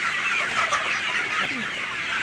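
A flock of Sonali chickens on a poultry farm clucks and chatters continuously, close and busy, with overlapping calls and no talking.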